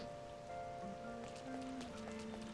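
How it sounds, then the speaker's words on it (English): Soft, steady video game rain in Persona 5 patters continuously at low volume, with a few faint tonal sounds drifting in the background. "don't like all this rain."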